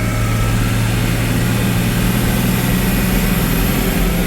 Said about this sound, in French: Et tu entends le turbo